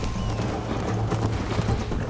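Horse galloping in the video game Red Dead Redemption, on PlayStation 3 near a bridge: a steady, loud clip-clop of hooves runs throughout over a dense wash of game ambience.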